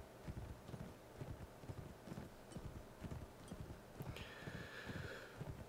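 Horse hooves clip-clop steadily through a village in the video game Mount & Blade: With Fire and Sword, a quiet continuous patter of several horses with faint background ambience and no talk.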